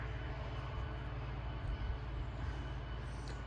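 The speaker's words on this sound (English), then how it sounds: "Here comes the tractor." A tractor's deep, steady engine drone rumbles close by without pause, a low mechanical hum of heavy machinery running continuously.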